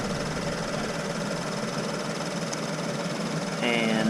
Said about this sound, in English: this is another brand new engine. It's running. You can see my RPMs are fluctuating